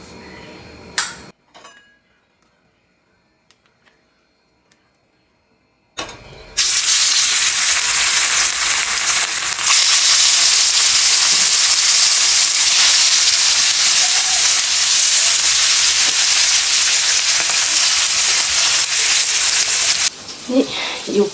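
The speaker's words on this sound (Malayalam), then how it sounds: "എണ്ണ ഒഴിക്കട്ടെ." Oil poured into a hot pan sizzles, a loud, steady hiss that bursts in suddenly after a quiet stretch with faint clinks and runs on continuously before cutting off near the end.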